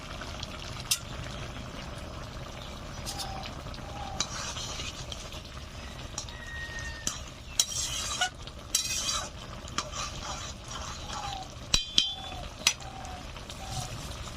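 Green chillies and fried prawns being stirred into a village-style bottle gourd curry in a pan, with soft scraping and occasional sharp clinks of a spoon against metal over a quiet background.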